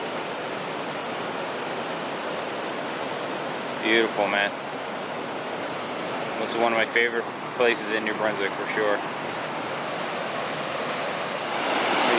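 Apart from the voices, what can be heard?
Crooked Creek Falls waterfall, New Brunswick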